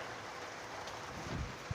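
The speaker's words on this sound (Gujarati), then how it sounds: "જો કેવો મસ્ત વરસાદ આવે ચાલુ છે" Steady rain falls in a continuous, even hiss with faint low patter, heard close and alone without any talk.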